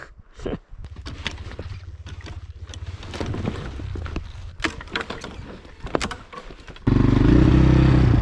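A KOVI enduro motorcycle rides along a rough Carpathian mountain road, its low engine drone running beneath rattles and knocks before heavy wind noise swamps the microphone at the end.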